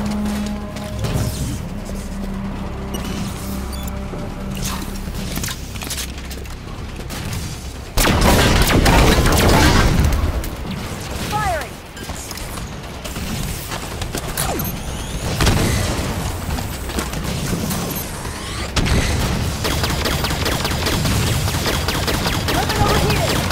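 Cannon blasts and gunfire in the Halo 5 Guardians video game, with heavy booms and bursts of shots layered over a dense, continuous battle din, while voices speak at times.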